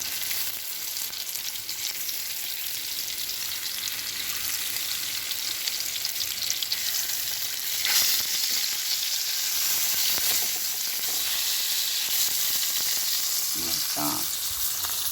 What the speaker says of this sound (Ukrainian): нехай ще пожариться